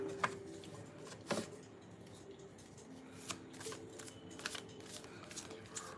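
A deck of oracle cards is shuffled and cards are pulled during a live reading, producing faint, close riffling flutters and soft slaps in irregular bursts, with a quiet voice faintly in the background.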